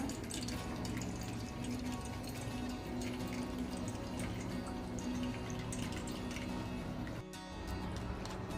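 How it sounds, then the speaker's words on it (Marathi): Spiced pani puri water is poured through a kitchen strainer, making a faint, steady trickle and patter that runs continuously with no talking over it. "आपण गाळून घेऊ याला हे बघा असं सगळं पाणी काढून द्यायचं आपल्याला"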